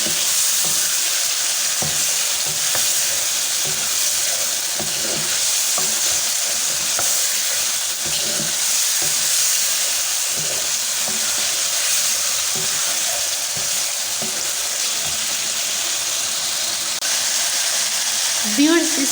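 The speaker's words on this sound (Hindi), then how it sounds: "ये बॉइल्ड शलजम जो थे वो ऐड कर लेते हैं। और इनको कुछ देर तक भूनते हैं।" Boiled turnips being stir-fried in a hot pan for shalgam bhujia, a dense steady sizzle with frequent scraping and clacking of a spatula, close and fairly loud throughout, with no voices.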